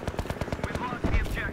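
Rapid automatic gunfire from Battlefield 3, a quick regular burst of close, sharp shots followed by a louder heavier blast, with someone talking over it.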